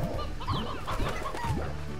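Hens clucking on a farm in the game Slime Rancher, a close cluster of overlapping bird calls and clucks, clear and continuous with no speech.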